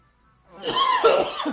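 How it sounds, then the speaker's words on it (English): A single short coughing spell from one person, a rough burst of two or three close coughs with a throat-clearing quality, loud and near, following a brief silence. "Getting a little coughing spell going on"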